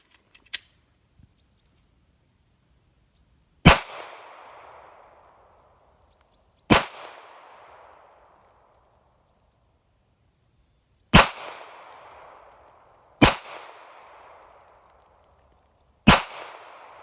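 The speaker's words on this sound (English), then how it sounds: "So on the 5th magazine, I put 5 rounds through and I saw all 5 rounds hit the dirt." Five sharp gunshots fired into BulletSafe soft body armor outdoors, spaced several seconds apart, each a loud crack with a short ringing tail and near silence in between.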